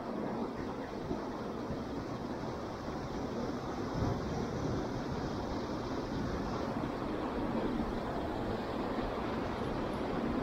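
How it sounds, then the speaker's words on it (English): Steady outdoor wind roars and buffets beside the water during a fishing outing, a dense continuous rush that stays loud and unbroken throughout with no voices. "It's windy today too."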